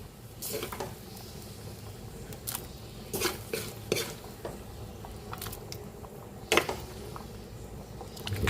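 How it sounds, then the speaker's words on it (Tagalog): A pot of ginisang monggo bubbles and sizzles steadily on the stove while a utensil scrapes and clinks against the metal now and then, close by. "Ayun, kulong-kulo na."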